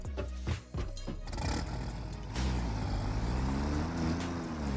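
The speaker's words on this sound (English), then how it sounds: "First I gotta turn the truck around." A truck in the video game Satisfactory maneuvers while turning around, its engine roaring steadily with rising and falling pitch, a brief hiss like an air brake early on, loud and close with no talk.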